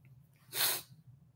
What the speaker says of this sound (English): thank you for your blessing of me for sneezing